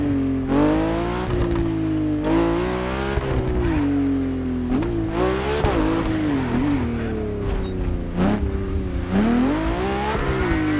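A car drives in The Crew Motorfest racing game toward a Ferrari museum building. Its engine drones steadily and loudly, with pitch rising and falling as it accelerates and eases off, continuous throughout.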